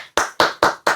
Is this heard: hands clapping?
yes